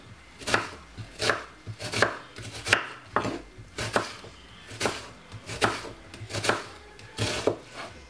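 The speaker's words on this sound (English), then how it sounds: "What I'm going to do is cut up the white onion" A knife chopping white onion on a cutting board, about a dozen crisp, evenly spaced cuts, close up with no talk.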